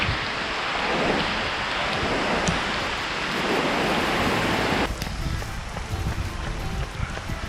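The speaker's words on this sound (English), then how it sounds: "because the rain is so heavy" Heavy rain pours down in a dense, continuous roar on the MacRitchie trail in Singapore, loud and steady from start to finish.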